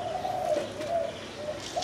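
A dove, a Vietnamese spotted dove kept for cooing contests in Phú Yên, gives repeated low, rolling coos in a steady rhythm, fairly close and alone.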